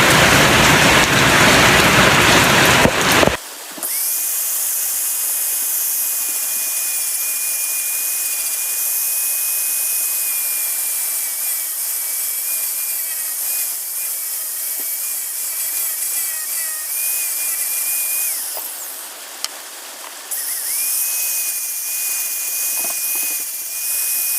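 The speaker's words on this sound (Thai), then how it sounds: "เดี๋ยวผมสีใส่กระดาษทรายแต่งปากก่อนนะครับ เดี๋ยวมันจะบาดครับ" Sandpaper smoothing the opening of a homemade corn seeder: a steady, loud, high-pitched whine with hissing grit that runs almost continuously, briefly pausing near the end, with no talking.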